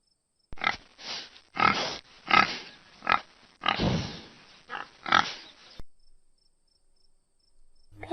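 A domestic pig grunts repeatedly in a steady series of short, close, fairly loud snorts, followed by a brief quiet stretch.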